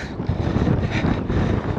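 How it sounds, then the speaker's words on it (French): Strong, steady wind buffets the microphone while cycling outdoors on open roads, a continuous loud low roar with gusty swells and no other sounds. "il y a un peu trop de vent pour parler"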